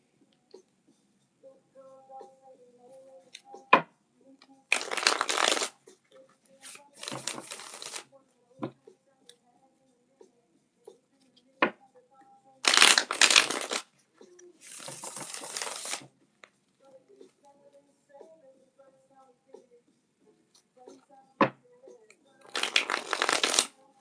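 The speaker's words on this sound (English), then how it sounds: "I love a deck that shuffles really good like that." A deck of tarot cards is shuffled in several loud, close riffling bursts separated by quiet gaps with soft handling clicks.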